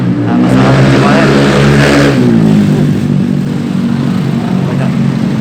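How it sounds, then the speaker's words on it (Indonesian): Motorbikes pass by loudly on a street in Ciwalen, a dense, roaring engine drone with rising and falling revs that swells near the start and stays steady throughout, with no talking. "Banyak suara motor lewat, guys, gila, kenceng banget."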